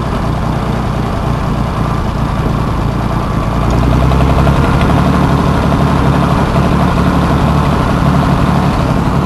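A log skidding machine driving along a road, its heavy engine rumbling loudly and continuously close by, with a rough, knocking low drone that grows slightly louder midway.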